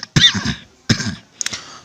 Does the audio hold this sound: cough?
yes